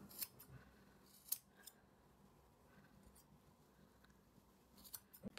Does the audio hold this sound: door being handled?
no